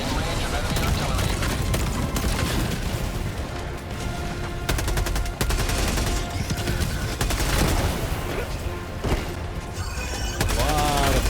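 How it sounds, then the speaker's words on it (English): Rapid gunfire and explosions in the video game Helldivers during an intense battle at Malevelon Creek, a dense, loud barrage of shots and blasts with spoken game announcements. "A lot of things blown up at once."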